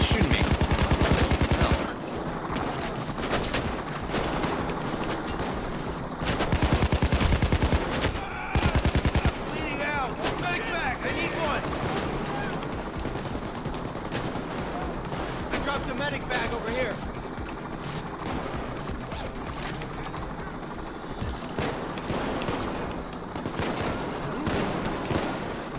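Gunfire in a PAYDAY 2 heist. Sustained automatic volleys run through the stretch with dense rattling bursts near the start and around the middle, and softer scattered shots and game noise fill the rest.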